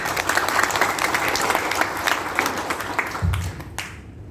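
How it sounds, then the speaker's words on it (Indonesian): An audience at a farming and plantation training event applauds PT BES with steady, dense clapping filling the room, holding loud and even before tapering off at the end. "Tepuk tangan untuk PT BES."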